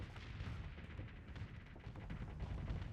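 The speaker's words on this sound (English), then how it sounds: "Alright, so you can see I've got like these flat cannons on the sides." Flat cannons on a spaceship firing in Starsector, a faint, muffled stream of low booming shots and rumbling impacts, steady and distant with no talk.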